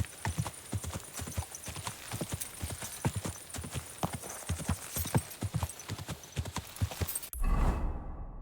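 Horse hooves clip-clopping in the video game Kingdom Come: Deliverance II, a brisk, even run of close hoofbeats that goes on for several seconds before cutting off into a brief low rumble.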